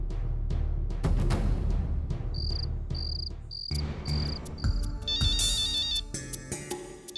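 A phone ringtone in a Hindi TV drama scene, with a repeated high electronic chirping tone in short regular bursts, then a denser warbling ring, over background music with no talk.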